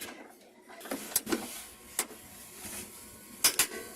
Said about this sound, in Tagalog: So gamit na yung torque wrench.